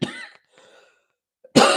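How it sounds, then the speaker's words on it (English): Two short coughs, the second weaker, followed by a brief pause and then a louder, harsh burst of coughing up close. "Even trying to do that voice made me cough."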